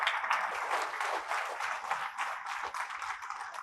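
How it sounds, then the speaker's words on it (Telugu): An audience at a Guru Purnima gathering applauds steadily for several seconds, a dense, moderately loud patter of many hands heard from within the hall, with no talk over it. "మీరందరూ కూడా ఆయన్ని ఒక్కసారి కృతజ్ఞతలు చప్పట్లు పట్టండి"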